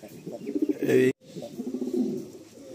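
Chini Kaldom pigeons coo in a loft, low throaty calls repeating close by, with a brief spoken word over them partway through.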